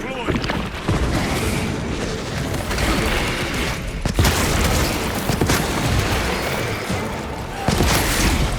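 A frag grenade explodes in the game Warhammer 40K Space Marine 2, adding sharp blasts to a loud, dense battle din of booming impacts and rumbling mechanical noise.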